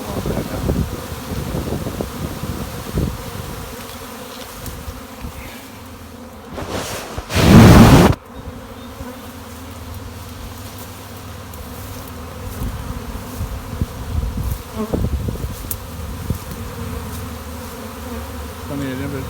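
A honey bee swarm buzzes in a dense, continuous hum outdoors, with wind rustle and handling noise, one loud close buzz passing the microphone, and faint voices in the background.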